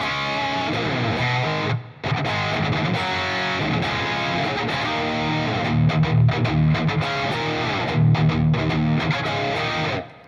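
An electric guitar plays on a dirty, distorted channel through a Line 6 HX Effects unit, strumming sustained gritty chords with a short break near the start and a ringing decay at the end.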